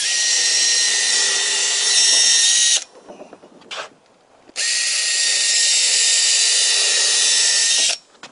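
A power drill bores holes for countersink screws in a deck board during concealed-fastener decking installation, two long loud whining runs separated by a short pause with brief bursts, close and alone.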